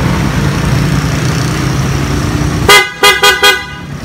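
A loud motorcycle horn honks in four short blasts, the first slightly longer, after a few seconds of low engine rumble.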